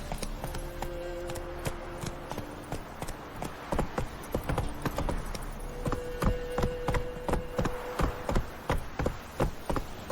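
Horse hooves clip-clop steadily in The Witcher 3 video game, a close, brisk rhythmic clatter of hoofbeats with faint tonal background music and no talking.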